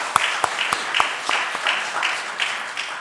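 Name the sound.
church congregation applauding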